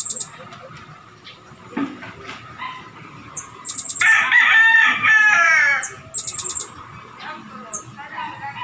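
A bird calls over and over outdoors, with a long, loud, harmonic call in the middle and shorter chirps and whistles before and after it.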